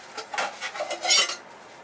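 A metal cooking pot clinks and clatters in a quick series of bright, close knocks, a louder scrape near the end, then quiet.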